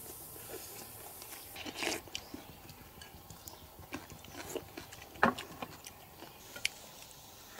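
Crunchy fried pork lard cracklings chewed close up, with scattered sharp crisp crunches and bites over quiet, irregular chewing, fairly faint overall.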